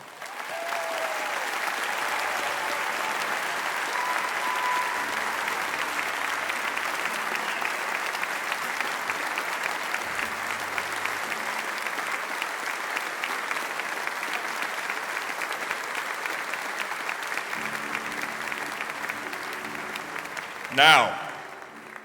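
Sustained audience applause at a best-restaurants awards ceremony as representatives stand for an ovation, a steady dense clapping that fills the room for over twenty seconds, ending with a brief louder burst.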